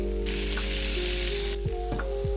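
Green onions go into a pan of sizzling kung pao chicken, a loud, steady close sizzle with a few soft knocks and stirring sounds near the end; no one speaks.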